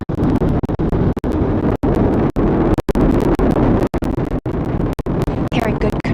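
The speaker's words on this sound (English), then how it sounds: "All 4 RS-25 engines on the core stage and 2 solid rocket boosters now propelling the vehicle at 128 miles per hour." The Artemis 1 rocket climbs on four RS-25 core-stage engines and two solid rocket boosters, a loud, dense, unbroken roar with sharp momentary dropouts, overwhelming and close.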